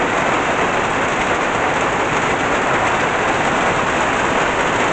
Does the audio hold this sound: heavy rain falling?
yes